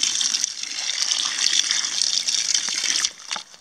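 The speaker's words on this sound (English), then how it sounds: "So this is a small batch of nettles. So you just put some water in." Water gushes steadily from a tap or jug over a small batch of nettles in a container for organic fertilizer, a continuous close splashing pour that tapers off at the end.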